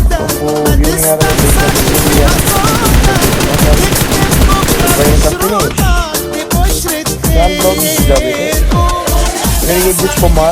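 Loud, rapid bursts of automatic gunfire in a video game, firing nearly continuously with brief pauses and sharp repeated shots up close, layered over a dense game soundtrack.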